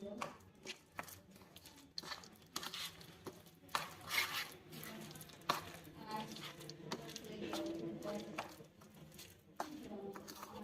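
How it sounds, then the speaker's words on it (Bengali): A spoon mixes ground lentil paste with chopped onion in a bowl, giving soft, irregular squishing scrapes and light taps at close range, fairly quiet throughout. "আমি একটা চামচ দিয়ে মাখাচ্ছি"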